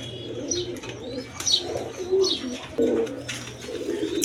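Pigeons of various breeds, including Lalgarh, coo repeatedly at a pigeon seller's, soft throaty calls with occasional chirps over a low background hum.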